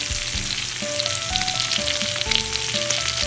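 Pork frying in oil in a pan for Bicol Express, a loud dense sizzle with faint scraping as it is stirred, steady and close throughout with no voices.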